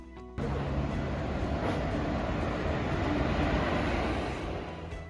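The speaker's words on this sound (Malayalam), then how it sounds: "തിരുച്ചെന്തൂർ എക്സ്പ്രസ് പാലക്കാടിൻ്റെ ഹൃദയത്തിലൂടെ പാഞ്ഞു തുടങ്ങി" The Tiruchendur Express rumbles along the tracks through Palakkad with a steady, loud, dense roar that begins abruptly and holds, fading slightly toward the end.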